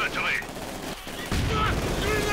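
Machine gun fire from MG teams in the Company of Heroes 2 strategy game rattles in dense bursts. The bursts run fairly continuously and grow heavier partway through, with a commentator talking over them.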